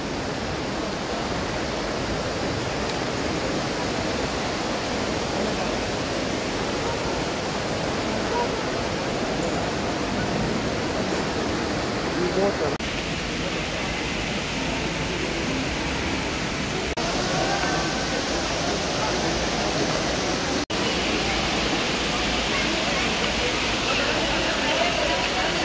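A large indoor water fountain in Dubai Mall gives a steady, loud rush of falling water that fills the whole stretch, with family voices chatting faintly beneath it.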